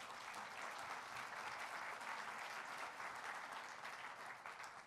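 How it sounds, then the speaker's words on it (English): A lecture hall audience applauds the sponsors at the opening of an event, a dense, sustained wash of clapping that stays steady and fairly distant for several seconds before tapering slightly at the end. "I would like a round of applause just to thank them"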